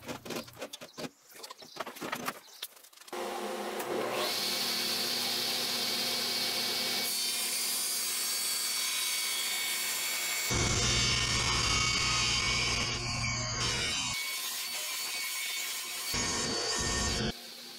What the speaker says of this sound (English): I ended up taking these strips up to my father's shop to do the rips at 45.